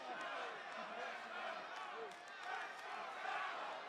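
Arena crowd at a WWE Raw wrestling match cheering steadily, a dense roar of many voices that swells and dips throughout, with voices shouting within the mass and no clear break.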